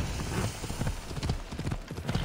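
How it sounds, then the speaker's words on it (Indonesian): Rapid clip-clop of a horse galloping at speed in Assassin's Creed Odyssey, dense rhythmic hoofbeats close and loud under a game soundscape. "kuda kita kenceng banget"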